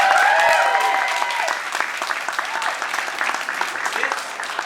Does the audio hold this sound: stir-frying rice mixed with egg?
no